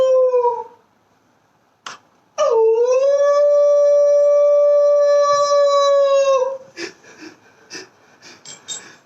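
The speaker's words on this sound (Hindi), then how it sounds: "अचानक लोमड़ी की रोने की आवाज।" Fox crying in a drama, a long sustained wailing howl held for several seconds after a short opening cry, loud and close, followed by brief breathy sounds.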